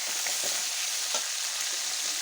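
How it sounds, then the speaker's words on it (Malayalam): Shallots and curry leaves sauté in a hot pan with a dense, steady sizzle and crackle, a few soft stirring scrapes popping through, close and continuous with no voices. "ഇത് നന്നായിട്ടൊന്ന് വഴണ്ട് വരട്ടെ."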